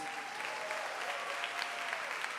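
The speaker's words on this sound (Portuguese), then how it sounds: "Vamos dar um aplauso ao Senhor pela vida dos pastores de vocês." A church congregation applauds steadily, a dense wash of clapping that fills the space at a constant level with a faint tone running underneath.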